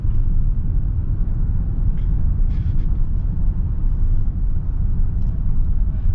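A 2024 Hyundai Santa Fe Calligraphy with a 2.5 engine drives in sport mode, and a steady low rumble of engine and road noise fills the cabin continuously with no talk.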